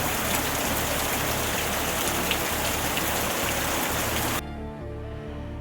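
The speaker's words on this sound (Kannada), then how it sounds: "ಆ ದಿನ ರಾತ್ರಿ ತುಂಬ ಜೋರಾಗಿ ಮಳೆ ಬರ್ತಾ ಇರುತ್ತೆ" Heavy night rain pours down as a dense, steady hiss, close and loud, dropping to a softer rumble near the end.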